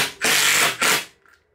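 A drill drives a regular 30 mm timber screw into wood with two close, loud whirring bursts, a short pause between them, then a faint brief rattle as it stops.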